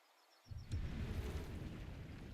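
Sundering Barrage spell detonating in a video game, a sudden boom that swells into a sustained rumbling roar, fairly quiet overall and with no talking.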